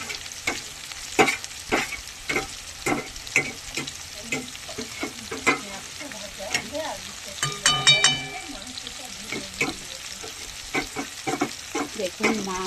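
Potatoes and onions fry in hot oil for a chicken dish, a bright sizzle punctuated by repeated scraping strokes of a spatula, with brief quiet talk in the background.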